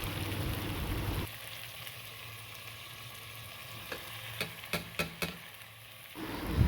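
Chicken with spices for murgh cholay fries in a pan: a steady sizzle throughout, with a few sharp scraping stirs near the end and a louder burst of frying at the start and finish.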